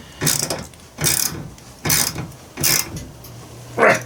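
A ratchet wrench drives a screw holding a metal bracket into a wall, giving five short, loud, close bursts of rapid clicking spaced about a second apart.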